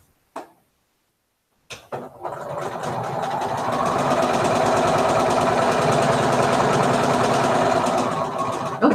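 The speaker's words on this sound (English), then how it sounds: "Line them up and sew them together." A sewing machine stitching quilt pieces for a mystery quilt: after a couple of short taps it starts up and runs in a steady, fast mechanical whir for several seconds, close and alone.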